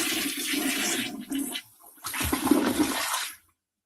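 Water gushes steadily from a tap while checking whether it runs clean, a broad rushing flow that briefly dips and surges again before cutting off abruptly to silence.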